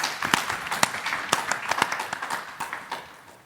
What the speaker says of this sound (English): A round of applause first for this initial.